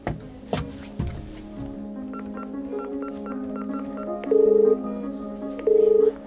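Telephone keypad tones beep one after another in an uneven sequence, with a couple of longer held tones, close and clear after a few handling clicks.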